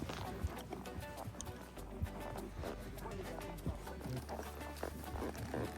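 Horses walking along a mountain trail on a multi-day riding expedition, irregular hoof clip-clops close by over a rustling outdoor background, with faint voices underneath.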